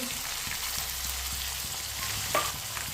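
Chopped tomatoes and finely cut green chillies stirred in a hot pan for a black chickpea curry, giving a steady close sizzle with soft scraping strokes and a brief clink near the end.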